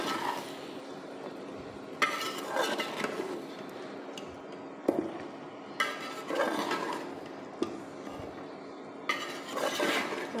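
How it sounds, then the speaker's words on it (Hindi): Rice, peas and potatoes for pulao being stirred in a metal pot, a spoon scraping and clinking against the sides in repeated sweeps with sharp knocks every couple of seconds, fairly quiet and close. "अब इसको अच्छे से मिक्स कर लूँगी"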